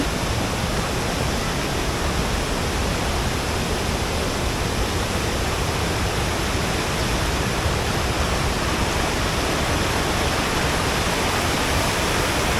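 Savatkada waterfall in Konkan pours with heavy monsoon flow, a dense, steady roar of falling water that fills the whole scene without pause, loud and close.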